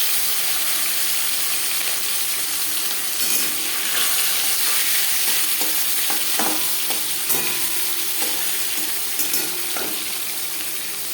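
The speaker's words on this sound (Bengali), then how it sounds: "মাছ হালকা করে ভেজে নেব।" Marinated silver carp frying in a few spoons of hot refined oil, a steady close sizzle throughout with occasional sharper crackles and pops, no talking.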